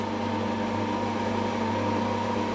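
Electric stand mixer kneading dough for Sicilian mbriulate, a steady, even motor hum with a constant drone and no voices.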